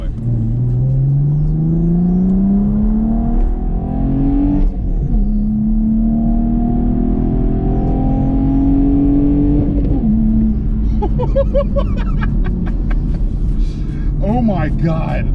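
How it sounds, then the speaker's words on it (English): A 2020 Chevrolet Camaro 1LT 1LE with a V6 pulls hard through the gears, its engine note climbing steadily, dropping at each shift and climbing again, loud and close, with someone talking over it. "for a V6, it actually gets up, and it sounds really good"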